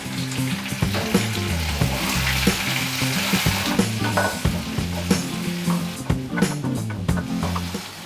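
Onion and tomato masala sizzles loudly in a pan while a spoon stirs it, steady frying with rhythmic scraping and knocks against the pan, close and continuous with no talk.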